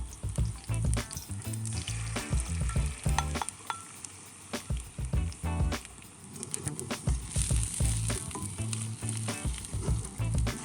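Eggs hit a hot, oiled pan and sizzle loudly and steadily for several seconds, with scraping stirs and clatters from a utensil over the frying; close, without any talk.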